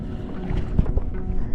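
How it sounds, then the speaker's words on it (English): Paddleboard paddle strokes on sea water in a Maine bay near Cabbage Island, with soft splashes and water movement at close range under steady wind noise, no talk. "I'm gonna go paddle around Cabbage Island."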